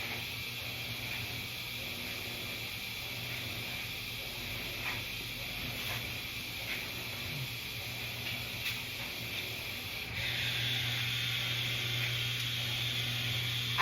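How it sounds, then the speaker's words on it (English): Washing machine and clothes dryer running together indoors, a steady continuous hum and whirring hiss throughout, with a slight rise in level near the end. "I've got my washer and dryer going."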